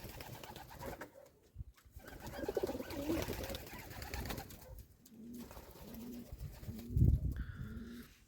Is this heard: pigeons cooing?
yes